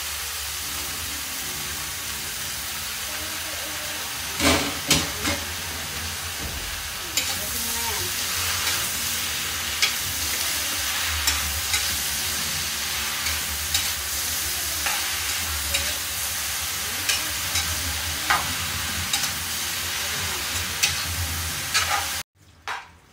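Bottle gourd (upo) fries in a pan with a constant loud sizzle, while a utensil scrapes and knocks against the pan at irregular intervals, close by and without talk.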